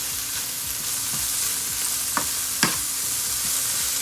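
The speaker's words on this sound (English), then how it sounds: "Just stir this real quick." Seasoned cooked meat sizzles in a pan and is stirred quickly, with a continuous frying hiss and a couple of distinct scrapes of the utensil, close up with no talk.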